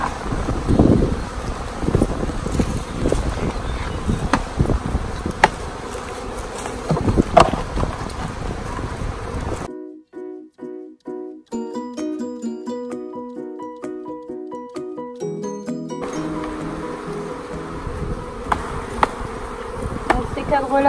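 Honeybees buzz loudly and densely around hives as frames are shaken amid rustling and bumping, then a stretch of tonal music before the swarming hum returns.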